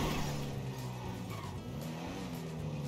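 Race cars in a video game on a dangerous track, one with its front-left wheel not turning, roar with steady engine drone, tire squeal and skidding throughout, loud and continuous with no talk.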